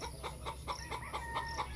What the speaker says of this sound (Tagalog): Tingnan nyo po ang aking manok, guys.